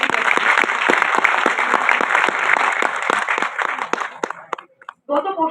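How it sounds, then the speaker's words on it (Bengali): Dense audience applause at a university gathering, many hands clapping loudly and continuously for about four seconds before thinning into scattered claps, with a voice starting up at the end. "এদের জন্য একটা জোরে হাততালি দিতে"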